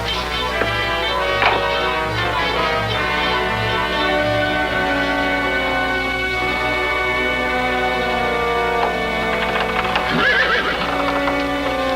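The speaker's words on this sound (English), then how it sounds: "I heard the horse whinny." A horse whinnies amid clip-clopping hooves and a musical background, with faint voices; the neighs rise and fall in shrill bursts.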